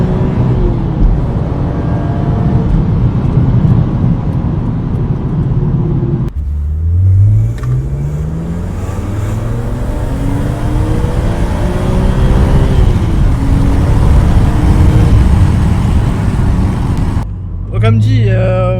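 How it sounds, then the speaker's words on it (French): A naturally aspirated BMW Z4 M with a stage 1 tune revs hard and accelerates, its engine note climbing steadily in pitch through the gears, loud and close, while someone talks over it. "Ce côté atmosphérique où ça monte dans les tours et ça hurle sans jamais s'arrêter"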